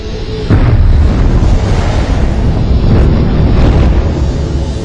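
A supernova explosion rendered as a deep, sustained rumbling roar, loud and dense throughout with heavy low-end boom and swelling bursts, with no voices over it.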